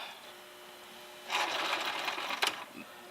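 A sewing machine stitches two-tone scarf fabric in a quiet room: a steady whirring run starts about a third of the way in, continues for roughly a second, then stops with a brief final burst and a click.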